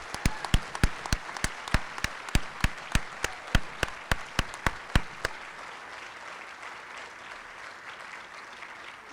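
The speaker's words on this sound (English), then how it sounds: "recognize all these kids with one great big round of applause" A few loud, evenly spaced hand claps ring out at a high school senior honors night, close and sharp for about five seconds over a soft crowd applause bed that carries on alone afterward.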